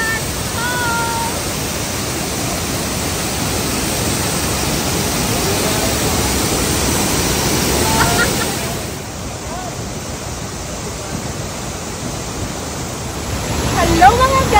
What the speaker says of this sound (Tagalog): Welcome to Cat Cat Falls.